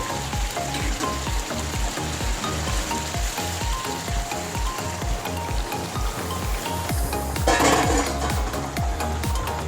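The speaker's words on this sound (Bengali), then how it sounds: "এবার আমি জল দিয়ে দেবো। দেবো গরম জল" Hot water poured into a pot of chicken curry cooked with young jackfruit, giving a steady close splashing and bubbling hiss that runs throughout with a slight swell near the end.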